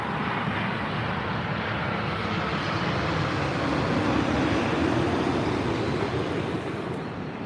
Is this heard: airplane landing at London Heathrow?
yes